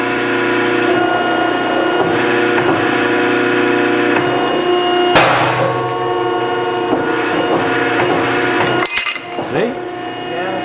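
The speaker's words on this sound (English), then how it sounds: "That's the metal rattling" Metal rattles loudly while a power tool cuts a steel spill guard for a Kubota B Series bucket, a continuous harsh buzzing clatter with sharp clanks near the middle and end.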